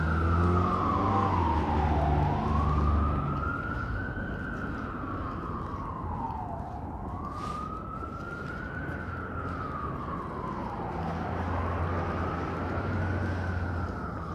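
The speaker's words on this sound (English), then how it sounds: "And the ambulance needs to get there faster." Ambulance siren on a New York City street in Queens, a loud wailing tone rising and falling in slow sweeps over the rumble of traffic, sustained throughout.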